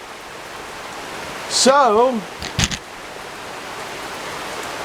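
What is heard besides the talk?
rain falling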